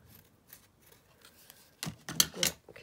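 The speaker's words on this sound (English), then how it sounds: "Oh, my scissors are really blunt." Dull snips of blunt scissors cutting collage book paper, a few soft cuts early then a louder cluster of close, crisp-edged snips near the end.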